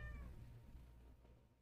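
Pet cat giving a short meow right at the start, faint and close, then fading into quiet indoor room noise.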